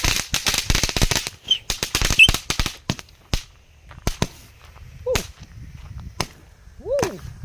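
Fireworks set off outdoors, a rapid crackling volley of sharp bangs that thins into scattered pops and a few whistling bursts, close and loud.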